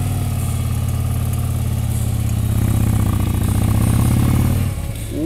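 A motorcycle engine runs steadily and loud on a mountain road, a continuous low throbbing drone that rises slightly as it pulls away, then drops near the end.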